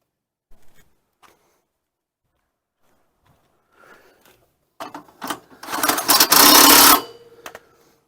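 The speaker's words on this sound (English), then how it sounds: "Now I'm tightening the strong arms" Lippert JT's Strong Arm RV jack stabilizer being tightened, a few faint clicks early on, then a burst of loud ratcheting and rasping metal near the close, stopping abruptly.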